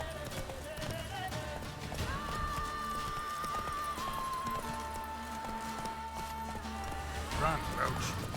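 The horse Roach gallops in The Witcher 3, steady hoofbeats running under a layer of game music and ambience, moderately loud throughout.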